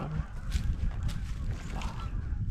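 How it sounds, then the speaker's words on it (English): Geese circling overhead give faint, distant honks scattered across a short stretch of outdoor wind. "Got these geese circling around."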